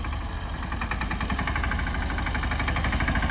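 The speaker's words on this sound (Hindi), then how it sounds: "तो इसी साल नया ट्रैक्टर लेकर आए थे" A new tractor's engine labors steadily while hauling a heavy load of sugarcane up a slope, a close, continuous mid-pitched rumble with a rhythmic knocking pulse and no talking.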